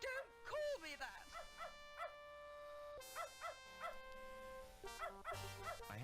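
Dog barking in the adventure game Beneath A Steel Sky: a run of sharp, yappy barks and yips in quick bursts, repeating several times with short pauses, loud and close.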